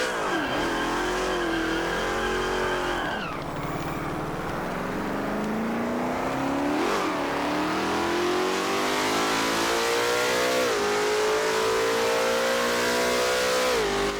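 Engine of a Venom F5 Revolution hypercar in a video game driving test, revving continuously and loudly with rising pitch sweeps through gear shifts and a brief dip before climbing again.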